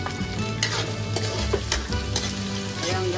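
Garlic sizzles and fries with pork in a pan while a utensil scrapes and stirs repeatedly, with crackling sizzle running steadily underneath the close, busy clatter of stirring.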